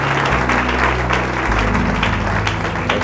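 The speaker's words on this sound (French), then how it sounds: "Sous nos acclamations." A church congregation applauding and cheering for a pastor at a Sunday service, continuous dense clapping with crowd noise over a sustained low musical hum, loud and full throughout.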